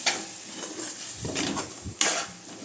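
A utensil scrapes and clatters in a pan as soya chunks are stirred into masala gravy, with a few distinct knocks over a faint sizzle.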